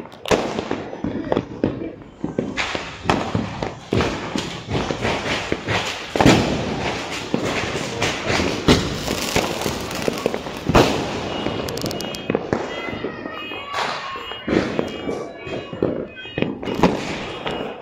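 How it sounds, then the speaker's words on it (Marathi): Diwali firecrackers burst all around a rooftop terrace, a dense run of sharp cracks and bangs in quick irregular succession, some close and loud, others farther off, over a continuous crackling backdrop. "फटाक्यांचा आवाज आहे"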